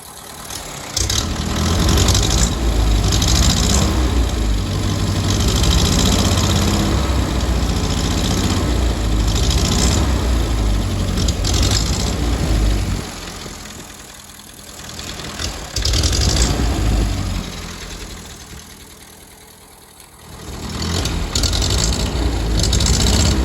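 A vintage Farmall Cub tractor engine idling steadily up close, running slightly lean, its low chugging rumble dipping briefly twice before picking back up.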